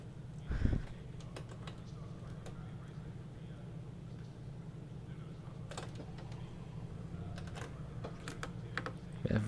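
Keys clatter in bursts on a computer keyboard during a sim-racing session in virtual reality, over a steady low engine-like drone from the racing game, with a few louder clicks near the start and end.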